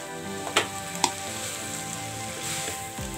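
Vegetable noodles stirred and fried in a pan, giving a steady sizzle with a couple of sharp utensil scrapes and clinks against the pan, no talking.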